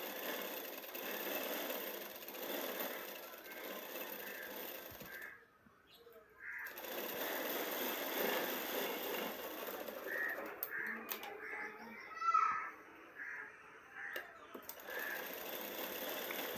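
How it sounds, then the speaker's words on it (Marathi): Sewing machine running steadily while cover-stitching a blouse lining laid over the main fabric, a continuous mechanical whir that briefly stops and restarts, with faint bird calls in the background. "आता कवर शिलाई करून घेते मी."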